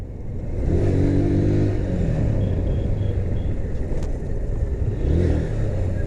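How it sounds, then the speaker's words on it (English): A 2017 Honda Hornet 160 motorcycle throttles up with a deep rising engine rumble, then holds a steady drone before a second surge of revs near the end, close and loud. "You can feel it when you turn up that accelerator."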